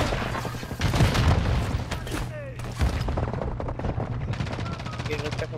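Warzone 2 video game battle with rapid bursts of automatic gunfire and booming blasts, dense and loud throughout, mixed with a shouted voice and radio-style callouts.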